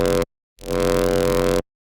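Drum and bass synth bass patch built in Xfer Serum, a dense, loud, gritty sustained tone heard as a short stab, a brief gap, then a longer held note that cuts off abruptly, with no talk.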